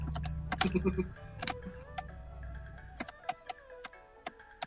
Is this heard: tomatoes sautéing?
no